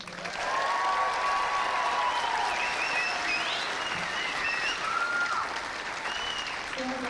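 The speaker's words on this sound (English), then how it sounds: "The big round of applause for number 12, Cammie Craig." Applause from a crowd at an exhibition swimming event, a steady wash of clapping that builds quickly and sustains throughout, with faint whistles and cheers rising above it.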